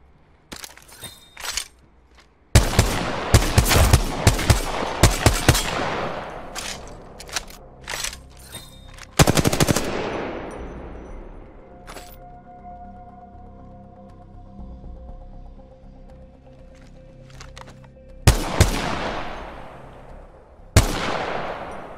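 Weapon fire at training targets in the Apex Legends shooting range: bursts of rapid shots and single loud cracks with ringing tails, separated by quieter stretches of faint mechanical game sounds.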